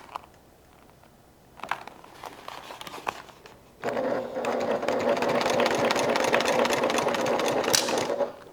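A sewing machine stitches a crossbody bag, starting with a few short bursts and then settling into a loud, steady run of rapid stitching for several seconds before stopping abruptly.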